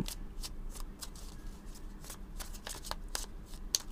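Tarot cards being shuffled and cut by hand, a quiet series of soft riffling flicks and taps in an irregular rhythm, close and alone with no talking.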